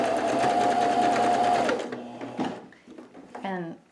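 A sewing machine stitches a face mask cut from a T-shirt with elastic sewn in, humming steadily up close for nearly two seconds before stopping, followed by faint handling noises and a brief voice.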